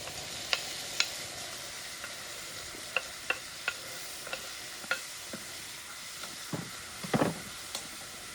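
Chilli and tomato fry in a pan at a campsite, a soft continuous sizzle broken by scattered sharp pops and spatters, one louder crackling burst near the end.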